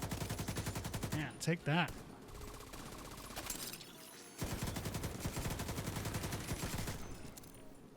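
RPK machine gun in The Division 2 on hardcore mode fires long, rapid automatic bursts, loud and close, broken by a short pause while a player speaks briefly, then resumes.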